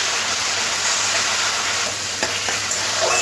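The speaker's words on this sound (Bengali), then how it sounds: "আদাটাও ভাজতে হবে পেঁয়াজের সাথে" Grated ginger and onions frying in a pan for a spicy katla fish curry, a steady broad sizzle with light stirring scrapes, close and continuous with no talk.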